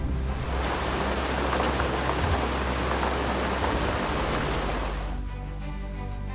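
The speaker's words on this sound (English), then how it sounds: "When the rains arrive, the land transforms." Steady rain pours on the savannah in a dense, even hiss with a low rumble beneath, continuing throughout and easing slightly near the end.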